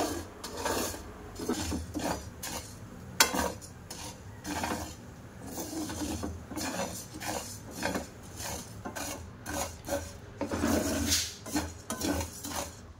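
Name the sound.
sago pearls being dry-roasted and stirred in frying pan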